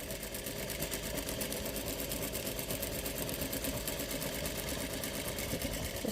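Sewing machine chain-piecing fabric pieces for a star quilt block, a steady fast mechanical whirr running continuously and close up, with no voices.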